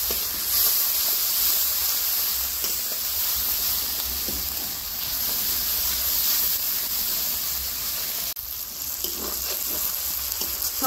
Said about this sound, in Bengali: সব কিছু দিয়ে মশলাগুলোকে ভালো করে আমি নাড়াচাড়া করে ভেজে নেব